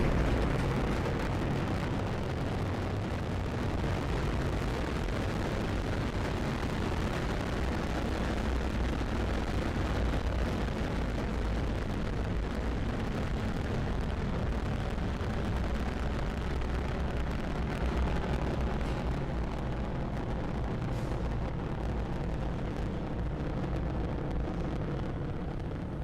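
SpaceX rocket first-stage engines roar during ascent, a dense continuous low rumble and crackle holding loud and steady for about half a minute with no voices.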